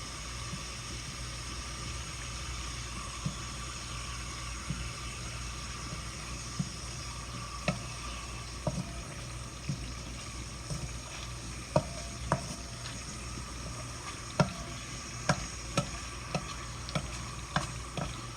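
Coconut milk cooking down into oil in a pan, with a steady close sizzle running throughout and frequent sharp ticks and scrapes of a spoon stirring, and no voices.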